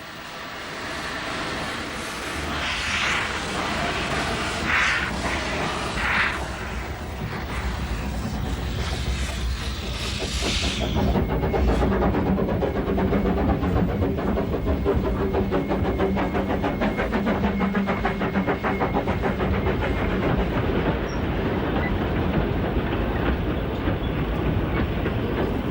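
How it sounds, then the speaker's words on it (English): The steam locomotive Dolgoch on Wales's Talyllyn Railway in 1976 pulls a train uphill, rumbling and clattering steadily along rails, loud and close, with a rhythmic chuffing engine driving it for the whole stretch. "The magical sound of steam as the little engine Dolgoch puts its heart into the task"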